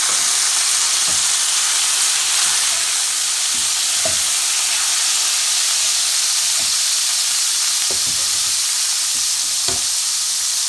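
Tomatoes tossed into frying onions in a pan, a loud continuous bright sizzle and hiss with scattered scraping knocks of a spoon stirring throughout.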